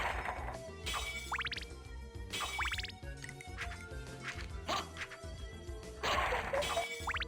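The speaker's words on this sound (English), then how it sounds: "So, nothing useful in these jars here." Glass jars smash in Castlevania: Symphony of the Night, with repeated crashing breaks and quick rising chirpy tones over a constant game background, each shatter following closely on the last.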